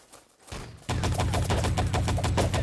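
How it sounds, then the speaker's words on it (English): Rapid automatic gunfire in Wolfenstein: Enemy Territory Legacy, a dense sustained burst of close, loud shots that starts abruptly after a brief quieter lead-in and keeps a steady rattling rhythm to the end. "What are you shooting at?"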